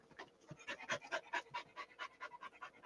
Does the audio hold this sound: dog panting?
yes